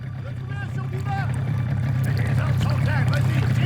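A boat engine in the video game Kona II: Brume drones steadily at low pitch, growing slightly louder, with faint voices and scattered higher sounds over it.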